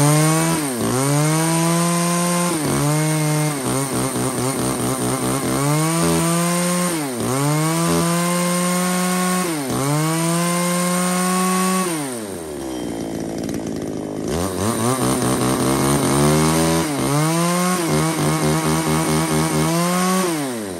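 A Tanaka chainsaw from a batch of used Japanese saws is pulled to start, then runs loud and close with repeated revving surges and drops back to a rough idle before climbing again.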